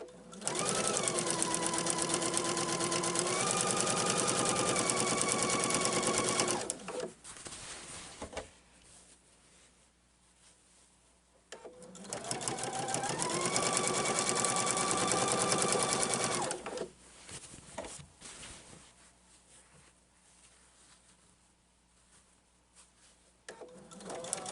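A sewing machine stitches quilt binding in two long, steady runs of several seconds each, close and loud, with a quieter stretch of fabric handling and faint knocks between and after them.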